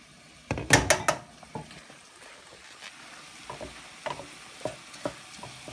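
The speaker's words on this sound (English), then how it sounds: "Joe's going to get that stirred up real good." Rice being stirred with turmeric and curry powder in a pot, a burst of scraping clatter near the start followed by quieter, spaced stirring scrapes and soft sizzle.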